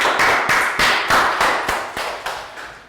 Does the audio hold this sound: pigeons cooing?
no